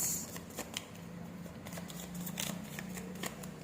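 Tarot cards being shuffled by hand, a steady run of crisp riffling flicks and soft slaps close to the mic, with no talking.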